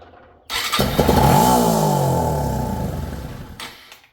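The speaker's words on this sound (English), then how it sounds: "I should at least be able to get a cough out of this thing" A Suzuki DR200SE motorcycle engine, primed with carburetor cleaner, coughs into life, a loud rough sputtering burst that rises briefly and fades out after about three seconds.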